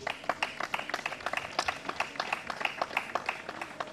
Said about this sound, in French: Je voudrais nommer M. Pierre Rabhi, que je vous prie d'applaudir très fort.